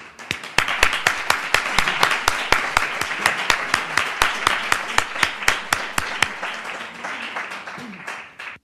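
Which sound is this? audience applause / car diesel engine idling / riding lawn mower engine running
audience applause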